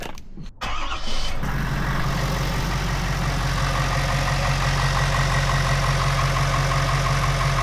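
A 2020-or-later Ford F-250/F-350 diesel pickup engine rumbles steadily at idle, a low continuous drone close by, preceded by a brief clatter as it starts.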